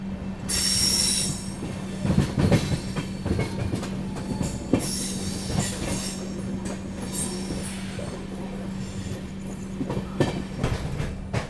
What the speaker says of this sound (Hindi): देखो फिर से ओवरटेक पड़ा है विदर्भा को यहाँ पे।